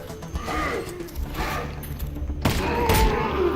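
Gunfire in the VR game Boneworks, a rattling volley over a rumbling game soundscape followed by two sharper, louder shots close together near the end.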